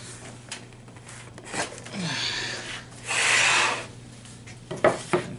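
A cast piece popped out of a mold, heard as close scraping and rubbing with a short grinding pull, a longer rasp, and a few sharp knocks at the end, with no speech.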